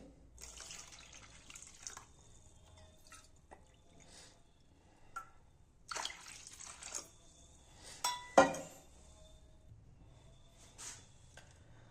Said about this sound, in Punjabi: ਪੰਜ ਕੌਲੀਆਂ ਨੇ ਜਿਹੜੀਆਂ ਆਪਣੀਆਂ ਪਾਣੀ ਦੀਆਂ ਪਾ ਲਵਾਂਗੇ